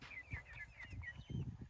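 Meat hens in a coop give soft, quiet clucks and chirps in a loose, irregular run, with faint low rustling beneath.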